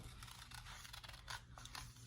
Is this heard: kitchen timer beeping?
no